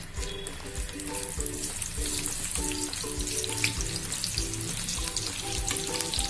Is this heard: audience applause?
no